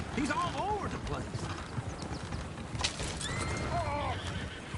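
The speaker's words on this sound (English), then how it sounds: "Oh, shit, the horses!" Horses in Red Dead Redemption 2 whinny loudly several times amid clopping hooves, with gunfire-like bursts and game noise around them and a voice speaking over the commotion.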